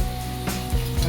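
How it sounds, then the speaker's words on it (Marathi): Chopped onion sizzles and fries in a hot pan while being stirred, for a rustic Maharashtrian roasted eggplant bharit; a steady close sizzle with a couple of brief stirring scrapes. "आपण कांदा गुळगुळीत रंगावर परतून घेणार आहोत।"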